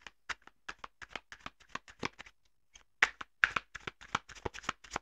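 Tarot cards shuffled by hand in quick bursts of crisp riffling and flicking slaps, close and fairly quiet, with a brief pause midway before the shuffling resumes.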